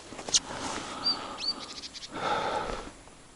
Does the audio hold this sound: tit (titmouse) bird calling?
yes